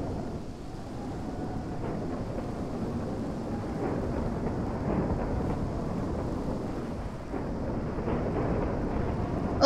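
Rumbling thunderstorm from the Minecraft Weather and Tornadoes mod, a continuous loud roar of wind and rain with low thunder swelling beneath it, with no talking.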